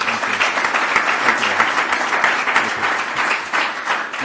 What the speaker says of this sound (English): I'd like to start with a round of applause for Paul for the meeting